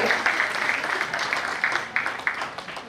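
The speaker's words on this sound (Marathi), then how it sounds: "जोरदार टाळ्या त्यांच्यासाठी झाल्या पाहिजे" Applause at a retirement function after a guest is invited up, a steady wash of many hands clapping throughout, moderately loud with brief swells.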